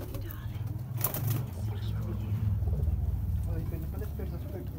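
Dub breed pigeons coo in low, steady rolling tones close by, with a brief higher chirp early on and faint background noise throughout.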